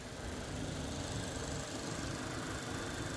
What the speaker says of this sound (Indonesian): suara mesinnya masih top